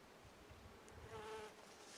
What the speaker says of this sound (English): Bees and flies.